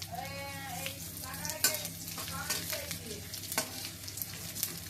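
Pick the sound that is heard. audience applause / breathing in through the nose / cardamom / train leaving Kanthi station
cardamom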